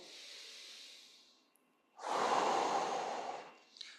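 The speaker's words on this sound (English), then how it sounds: "continuing to breathe into that abdominal wall on your inhale" Slow, deep abdominal breaths come in close and clear: a soft airy exhale fades out, a brief pause follows, then a fuller, louder inhale rushes in and holds steady before tapering, with no talking.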